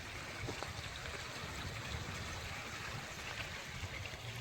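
A faint, steady rush of flowing mountain stream water in a valley continues throughout, soft and even.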